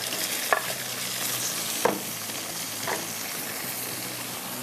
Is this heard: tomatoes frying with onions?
yes